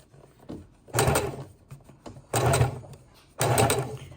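A sewing machine stitches fabric ruffles in three short bursts of whirring, each about a second long, with quiet pauses between them. The sound is close and moderately loud, and there is no talking.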